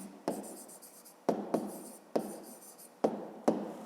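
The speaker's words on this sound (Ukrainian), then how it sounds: "Ну, а зараз записуємо відповідь." A pen writes an answer by hand for a fifth-grade maths exercise, making close, quiet scratching strokes with a sharp tap at the start of each stroke. The strokes come in several short bursts and no one speaks.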